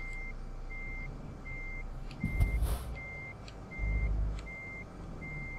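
Reversing alarm of a truck in European Truck Simulator beeps in a steady, evenly spaced series over a low diesel engine rumble, with brief louder engine surges partway through.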